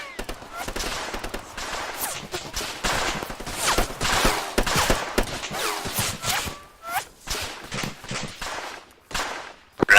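Dense gunfire sounds through a military simulation battle in ARMA 3: rapid bursts and single shots crack in irregular volleys, some close and loud, others fading, with no speech over them.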